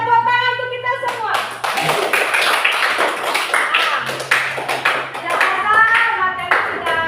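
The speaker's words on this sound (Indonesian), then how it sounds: "Oke, tepuk tangan untuk kita semua." Children in a classroom clap their hands in quick, uneven bursts, the claps sharp and close, with a voice and children's voices speaking between and over the clapping.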